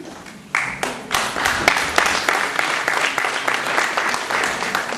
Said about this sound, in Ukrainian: Я перша почала аплодувати цій прекрасній дівчині, яка так талановито прочитала вірш